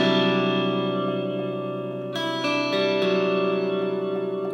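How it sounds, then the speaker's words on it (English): An electric guitar played through a Strymon reverb pedal switched to its plate setting, sustained chords and ringing notes with a long shimmering tail, a brief change in texture midway, loud and alone. "So let's flick this up to plate."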